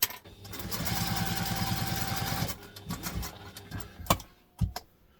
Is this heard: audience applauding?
no